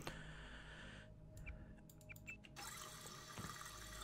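Tap water runs steadily in the video game Deus Ex Revision, a continuous hiss that cuts off after a second. Brief clicks and small digital tones follow, then the running flow resumes loud and close.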